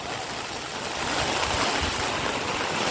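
Floodwater after extreme rain pours over a bridge in a steady, dense roar of rushing water, loud and close throughout, with no voices.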